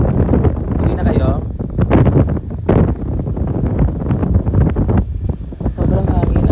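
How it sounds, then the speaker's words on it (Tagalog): Strong outdoor wind buffeting a phone microphone, with loud gusty rumbling bursts that rise and fall under people talking. "Sobrang hangin, Ats."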